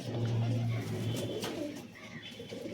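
Giribaz pigeons cooing close by in a low, rolling murmur, with a voice talking over and around the calls throughout.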